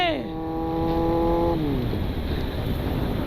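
A superbike on a drag race track revs hard, engine pitch climbing as a clean harmonic whine that holds steady and then drops away into a rumbling roar, loud and close with voices talking over it.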